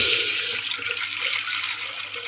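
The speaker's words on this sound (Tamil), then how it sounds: "ஃபஸ்ட் கொஞ்சம் தண்ணி சேர்த்துக்கலாம்" Water runs from a tap into a cooking pot set on the stove to boil lentils for a watermelon curry, a steady close hiss of pouring that continues throughout with no voices.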